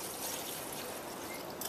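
Water pours steadily from a bottle into a pot in a close, continuous splashing stream that cuts off at the end.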